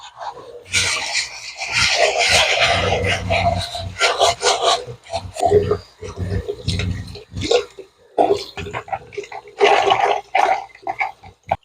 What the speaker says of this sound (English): So what we do want to do, turn on the shower.